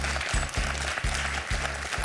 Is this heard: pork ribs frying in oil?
no